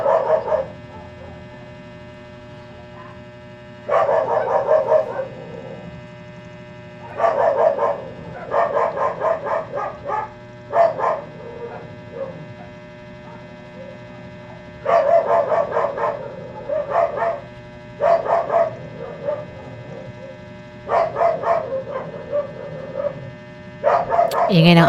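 Several dogs bark in repeated bursts over a steady hum, fairly close and loud, with pauses between volleys, near a road where a motorbike passes.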